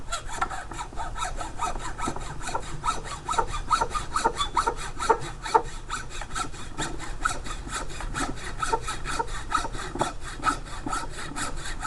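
A hand saw cuts through the excess wood of a new hammer handle, a steady run of rapid back-and-forth strokes, close and fairly loud with no voices.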